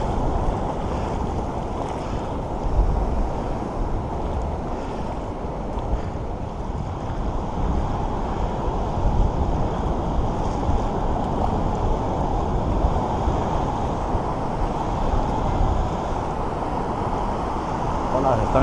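Ocean waves on a beach during metal detecting, heard as a continuous loud wash of surf and wind buffeting the microphone, with talk over it.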